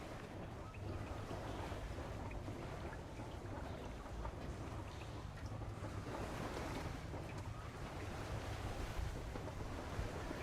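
A played recording of sea sounds: rolling waves and surf with a windy rush, continuous and fairly faint, the waves swelling gently without any voices.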